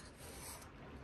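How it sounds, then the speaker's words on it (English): Sandpaper rubbing and tapering the end of a thin wooden strip for a bentwood ring, a steady close rasping scrape that runs continuously for about a second with no voices. "sanding the end here, tapering it a wee bit"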